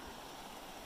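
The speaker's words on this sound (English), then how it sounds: "The river's up quite high today." A swollen, high river rushes steadily with a broad, even hiss of flowing water, heard alone and faintly throughout.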